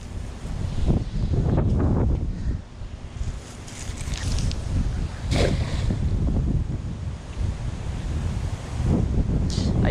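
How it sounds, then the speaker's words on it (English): Gusty wind buffets the microphone on open water during cast-net fishing for bluegill, with a steady roar and lapping water, loud and close, swelling and easing in waves. "The wind's blowing."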